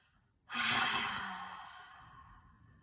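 A single deep, breathy exhale during a guided breathing exercise, a long airy rush that starts abruptly, is close and clear, then slowly fades over about two seconds, with no talking.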